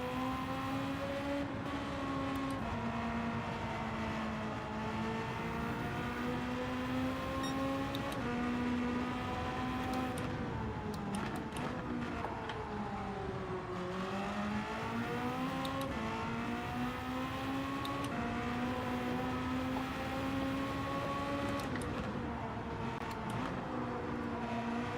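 Hypercar engine driving in Gran Turismo 7, a sustained loud engine note rising and falling through gear changes and revs, steady and continuous with no talking.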